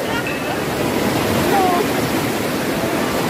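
Strong rushing water at Bayugin Falls in Bulusan, Sorsogon pours in a loud, steady, close-up roar with no pause, filling the whole stretch.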